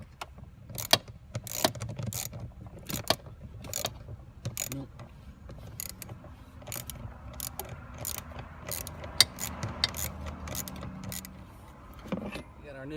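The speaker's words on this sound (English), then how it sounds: "And then we'll get to unscrewing these and we'll put our new mechanism in." Small screws being unscrewed from the blower motor resistor of a 2004-2007 Chrysler Pacifica, heard as close, quiet mechanical clicks and scrapes with occasional sharper ticks over low background rumble.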